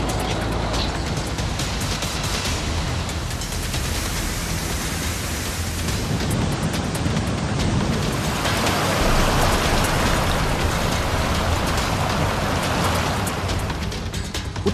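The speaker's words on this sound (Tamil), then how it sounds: "யார்க்ஷைர் உள்ளிட்ட பகுதிகளில் சில மணி நேரங்களில் 40 முதல் 60 மில்லிமீட்டர் வரை மழை கொட்டி தீர்த்தது." Heavy rain pours steadily in Yorkshire, a dense, constant hiss of downpour that stays loud and unbroken throughout, with no voices.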